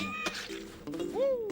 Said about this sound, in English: thought there was a cat just doing some very like vicious meowing.